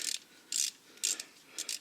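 A ratcheting wrench turns out a 12 mm bolt on a Kubota B2261 compact tractor, giving four short, crisp clicking bursts close up and fairly quiet.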